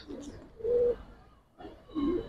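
Silver Giribaz pigeons coo nearby in two low, soft, throaty calls separated by a pause, over a faint background hum.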